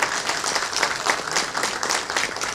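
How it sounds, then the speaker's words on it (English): Brief burst of thick, continuous applause from an audience at a college business panel session, many hands clapping together at an even level with no gaps. "Let's give them a round of applause"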